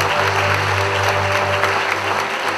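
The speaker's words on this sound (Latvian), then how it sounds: "Aplausi viņam!" Loud sustained clapping from an audience at a Latvian Independence Day proclamation celebration in Līvāni, a dense even round of applause with a low hum beneath and no speech.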